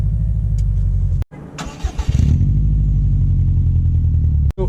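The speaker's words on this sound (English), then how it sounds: "So here we are setting off in the 2018 STI" A 2018 Subaru STI pulls away with a steady low engine drone, a brief surge of clattering mechanical noise in the middle, and two short cuts in the sound.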